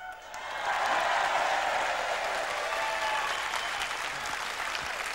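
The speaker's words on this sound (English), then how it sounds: "That's your applause there." Studio audience applause on a British comedy show, a dense, steady clapping that swells in the first second and then holds loud and even, with no talk over it.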